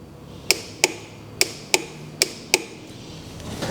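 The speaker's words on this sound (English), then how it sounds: "now torque the bolts." A torque wrench clicks while tightening bolts on a Yamaha WR450F engine during an oil and filter change, six sharp metallic clicks in pairs, close and distinct against a quiet background.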